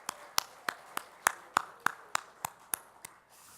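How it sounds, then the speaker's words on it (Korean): A Friday church service congregation giving a round of applause, heard as a faint, quick series of about a dozen crisp, evenly spaced claps in a quiet room. "우리 찬양과 우리 고백을 받으신 하나님께 영광의 박수 다시 한번 올려드릴까요?"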